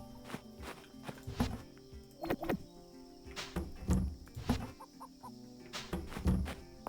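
Chickens clucking in the farming game Fields of Mistria, several soft clucks over repeated footstep thuds and a light ambient bed of crickets and birds.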